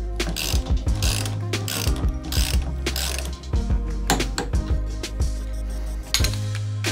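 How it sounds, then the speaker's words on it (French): A wrench ratchets a 16 mm nut tight on a bicycle fork, rapid repeated clicking pawl strokes in short bursts with brief pauses, close and clear with no talk. "Et on revisse cet écrou à 40 Nm avec une clé de 16 d'un côté,"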